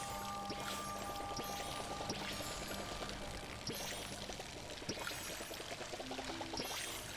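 Watering crops in the Palia video game, a steady pouring, splashing stream of water running continuously throughout, with faint game ambience beneath.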